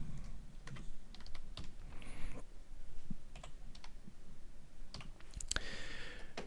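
A name is typed on a computer keyboard in quick, irregular clusters of close key clicks with short pauses between bursts, quiet and with no talking.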